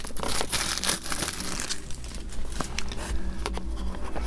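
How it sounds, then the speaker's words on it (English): Plastic wrapping pulled off a DJI Osmo Action camera box: close crinkling and crackling with sharp tearing bursts and rustles, uneven and busy throughout. "Get this plastic off."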